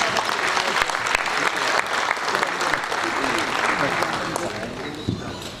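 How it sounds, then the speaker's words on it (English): An audience at a lecture on nation building in a diverse democracy gives a loud, sustained round of applause, a thick continuous clatter of many hands that tapers slightly toward the end, with a voice faintly underneath. "Let's give him a resounding round of applause."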